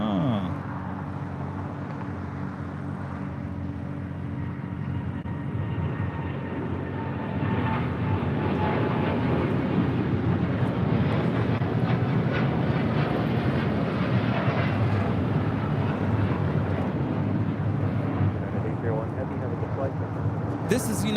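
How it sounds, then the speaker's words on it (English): A United Airlines Boeing 787-9 Dreamliner takes off from LAX, its engines giving a broad, steady roar that builds slightly partway through and holds loud throughout, with people talking over it. "This is United Airlines 801 taking off to Hong Kong on a 787-9 Dreamliner."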